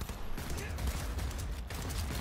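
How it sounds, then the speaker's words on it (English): Rapid, dense gunfire fills a Cyberpunk 2077 firefight during a heist mission, a continuous loud burst of shots and mechanical clatter with no pauses. "Trying to shoot somebody!"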